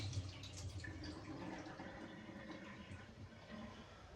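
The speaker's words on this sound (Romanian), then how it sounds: "O să iau și apa de pe cartofi întâi." Water poured off boiled potatoes in a kitchen, a quiet continuous splashing and trickling stream with some dripping, faint and steady throughout.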